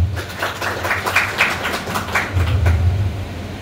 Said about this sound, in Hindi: और एक बार इस तंजीम के लिए आप एक बार ज़ोरदार तालियां बजा दें।